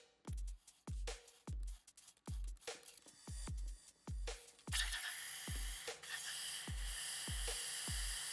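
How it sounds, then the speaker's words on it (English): An airbrush used for nail art spraying cleaner through it: a series of short sharp bursts with a soft hiss at first, then a longer continuous spray hiss toward the end, close and fairly quiet. "I'm probably going to use some cleaner now and then spray that in there"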